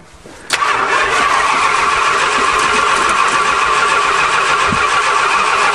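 The engine of a 1975 Chrysler New Yorker cranks on its first start attempt after years unused, kicking in abruptly and droning loud, close and continuous to the end.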